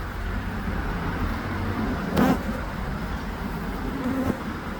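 Honeybees crowd the entrance of a recently split hive, hauling in yellow and orange pollen. Their dense, continuous buzz sounds close and fairly loud, with faint traffic-like rumble beneath it.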